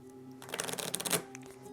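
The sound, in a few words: shuffling cards, Arkham Horror card game encounter deck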